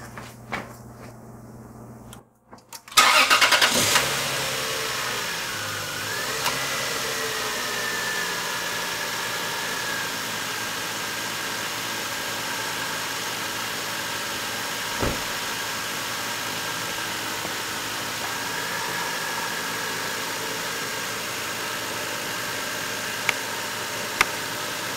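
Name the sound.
Lexus GS300 2JZ-GE engine starting and idling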